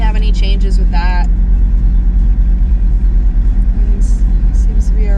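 Audi RS3 TCR with 034 mounts driving in dynamic mode, a steady low engine and road rumble running throughout at close range, with a person talking over it at the start.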